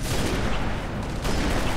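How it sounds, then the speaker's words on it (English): Phantom plasma cannon fire in a Halo Reach mod, a dense, heavy barrage of booming blasts close by, sustained and rumbling with a short dip in the middle before it resumes. "I like that they add the old plasma cannon for the phantoms"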